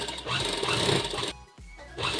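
An electric sewing machine stitching a kurti collar neck, a steady close whirring run, a short stop, then the motor starting again.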